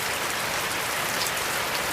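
Steady rain falls throughout, a dense continuous hiss of drops hitting surfaces, even and fairly close with no talking.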